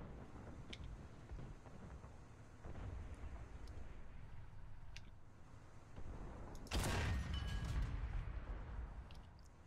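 A single heavy cannon blast from an SU-85 tank gun in War Thunder booms loudly about two-thirds of the way in, then rolls off in a long decaying tail over a steady engine rumble.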